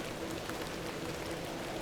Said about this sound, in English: A little rain is no bother.